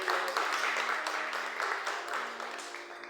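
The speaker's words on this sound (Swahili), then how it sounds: "Pigia Yesu makofi" A church congregation claps for Jesus during a Swahili sermon, a dense, steady patter of many hands filling the room, loud at first and easing slightly toward the end.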